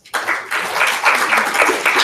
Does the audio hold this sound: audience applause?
yes